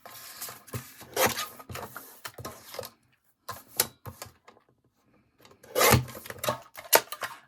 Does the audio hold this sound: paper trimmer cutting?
yes